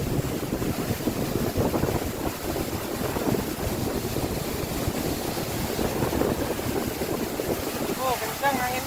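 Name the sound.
strong wind at a waterfall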